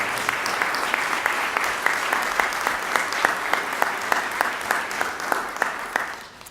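An audience at a university convocation and awards ceremony claps warmly as a speaker is welcomed to the podium, a dense, loud and steady burst of applause that fades out at the end.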